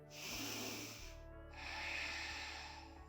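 A deep yoga inhale followed by a long exhale, two breaths close to the microphone with a breathy, slightly snorting nasal hiss and no talking.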